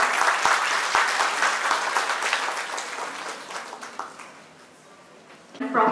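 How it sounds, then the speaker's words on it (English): An audience at a state-level nursing education event applauds a guest of honor, dense clapping that starts loud and gradually fades, ending with a brief burst of noise near the close. "Join me in extending a heartfelt round of applause to our esteemed guest."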